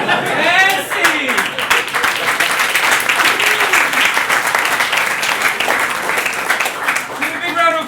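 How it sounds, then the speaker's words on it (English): A live comedy-club audience breaks into sustained applause, dense clapping filling the room at close range for several seconds while a voice speaks over it at the start and end. "Give a big round of applause for them"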